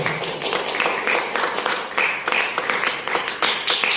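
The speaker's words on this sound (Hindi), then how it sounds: "यीशु के लिए जोरदार ताली" A church congregation clapping loudly for Jesus, a dense, steady wash of many hands applauding that fills the room.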